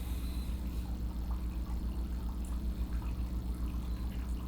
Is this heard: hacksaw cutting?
no